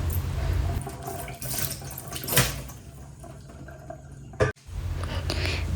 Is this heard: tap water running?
yes